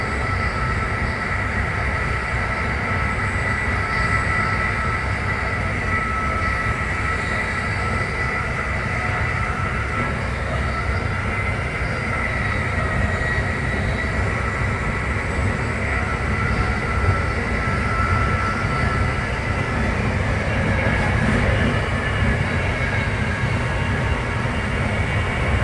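Inside Amtrak train #183 riding from New York City to Philadelphia, a constant loud rumble of wheels and car noise with steady track hiss and faint rattles carries on unchanged throughout.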